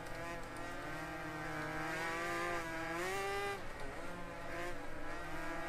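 Race car engine in a computer racing game revving hard and steadily climbing in pitch, with brief gear-change dips, loud and continuous throughout.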